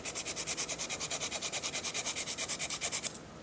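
Fast rhythmic rasping strokes of a coarse 80/80 grit file across an acrylic nail, about seven per second, close and steady for three seconds before stopping, with no talking.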